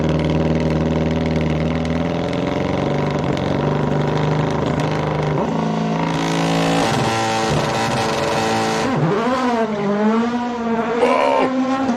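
A hill climb race car launches hard up the course, its engine screaming through rising revs and quick gear changes, loud and close, with tire noise and a brief lift before climbing again.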